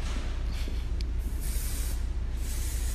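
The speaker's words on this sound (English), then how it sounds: "this is our texture and shine spray" Texture and shine hair spray hisses from a can in a steady, continuous spray, with a couple of brief louder puffs, close to the listener.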